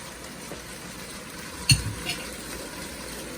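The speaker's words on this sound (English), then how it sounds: "I'm gonna stir frequently for a while." Singapore devil's curry with tomato and cilantro stirred in a pan, a soft steady sizzle with one sharp clink of a utensil on the pan and a few faint scrapes.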